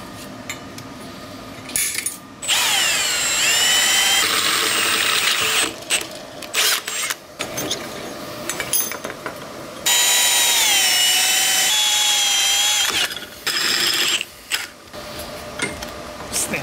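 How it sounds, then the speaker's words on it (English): Power drill boring two holes through a steel bracket for mounting to a trailer frame in a workshop, long whining bursts that rise and settle in pitch, separated by pauses filled with clanks and metallic handling noises. "We gotta drill 2 holes to mount it to the frame deal,"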